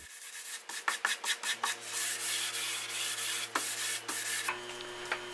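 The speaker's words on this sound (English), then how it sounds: "we're going to hit it with 320 very lightly, using a backer pad for the flat areas" Rapid back-and-forth strokes of hand sanding a wood finish with 320-grit paper and a backer pad, a steady run of short rasping passes close up, with a faint low hum underneath.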